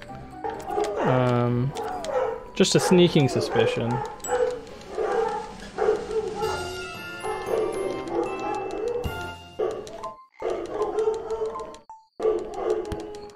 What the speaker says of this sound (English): you might be able to hear the dogs right now